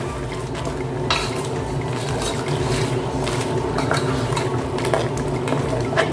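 A spoon stirring crab and pumpkin simmering in coconut milk in a cooking pot, a steady close bubbling hiss broken by soft scraping and clinks, with no talking.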